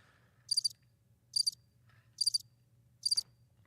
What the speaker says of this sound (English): Those were just crickets.